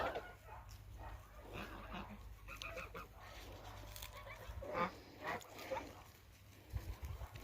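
Geese honking in short, scattered calls outdoors in a village at sunset, fairly faint, with a quiet voice and rustling in the background.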